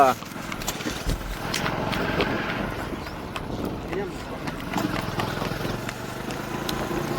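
A mare's hooves clip-clop in a quick, steady rhythm up close, with people talking and faint traffic noise underneath.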